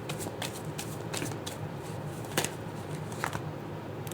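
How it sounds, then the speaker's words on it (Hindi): Tarot cards shuffled by hand, a string of quick papery riffles and flicks close to the listener, with brief pauses between bursts and no speech. "तब तक मैं कार्ड को शफल कर रही हूँ"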